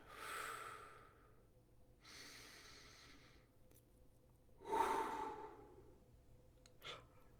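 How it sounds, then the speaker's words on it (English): Slow, deep breaths come in a calm, unhurried rhythm: long airy inhales and exhales close to the ear, separated by quiet pauses, with one fuller, stronger breath near the middle and no speech. "Using slow, deep breathing as an access code."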